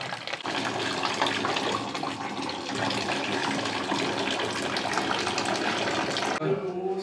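Water gushes steadily from a tap or pipe, a close, even rush with voices over it, and it stops abruptly near the end.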